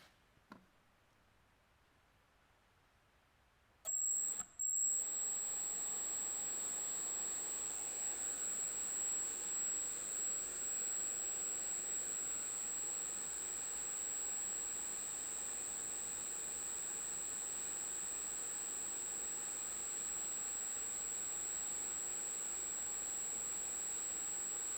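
An electric ducted fan spins up at test speed with no balancing weights fitted, a quiet start giving way to a sudden steady, loud, high-pitched whine with a constant tone and rushing air that holds without change.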